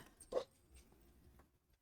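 A dog gives a faint, brief whimper, a single short whine that rises out of quiet room background.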